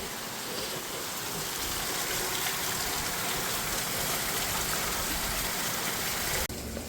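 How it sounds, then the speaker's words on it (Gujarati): Heavy monsoon rain pours steadily in a dense, continuous hiss that holds without pause, loud and close. "ઘડીકમાં વરસાદે તો અફડા તફડી મસાવી દીધી છે"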